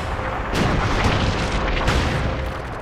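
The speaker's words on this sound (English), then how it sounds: "my artillery strike is still going, so it's doing damage" Artillery strike explosions in the World War II game Theatre of War roll in as a loud, continuous rumble of booms and blasts that fill the whole stretch with dense, heavy impact noise.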